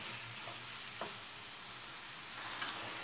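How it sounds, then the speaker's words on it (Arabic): Chicken breast frying in oil with onion and garlic gives a steady, faint sizzling hiss throughout, broken by a couple of soft ticks, with no talking. "نخلي حتى هو يتشحر واحد شويه مع البصله والثومه والزيت"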